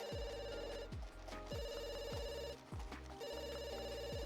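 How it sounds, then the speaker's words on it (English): A telephone in the video game The Sims 2 rings in three repeated bursts of bright, steady tones with brief gaps between them, heard over a low, rhythmic game music bed. "But Maya, you can answer the phone when you're done your homework."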